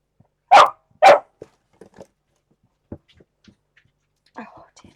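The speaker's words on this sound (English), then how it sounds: "Oh, don't start barking." An indoor dog gives two sharp, loud barks close by in quick succession, followed by faint scattered clicks and small noises in an otherwise quiet room.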